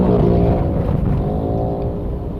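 An automatic 1300cc car climbing a steep incline, its engine droning loud and close with a steady harmonic hum that eases slightly over the stretch.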